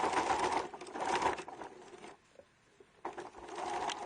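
A sewing machine stitches terry cloth in two steady whirring runs close by, broken by a brief near-silent pause before the motor starts up again.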